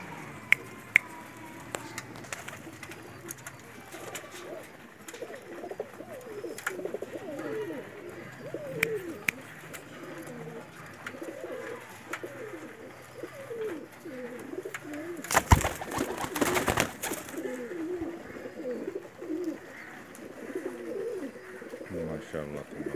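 A breeder pair of Pakistani Kasuri pigeons coo in soft, repeated throaty phrases close by, with scattered clicks and a brief burst of rustling handling noise in the middle.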